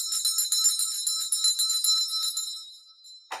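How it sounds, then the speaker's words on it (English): A handbell rings in a quick run of bright, high metallic tings, close and fairly loud, fading out after a few seconds and ending in a short thump. "That's a fucking bell, dummy."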